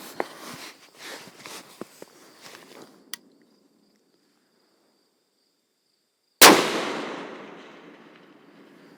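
Long-range rifle fired at a target 995 yards away through a Tract Toric 34mm scope, one loud sharp report that rings out and decays after some clatter and handling noise and a few seconds of silence.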